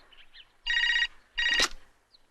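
Two loud bursts of a telephone bell ringing in an indoor scene, each lasting about half a second with a short pause between, close and clear with no talk over it.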